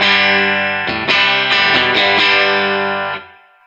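An electric guitar, a Daniels Guitars Les Paul Junior with a P90 pickup, strummed hard, a thick, slightly overdriven chord rung out and re-struck several times before fading.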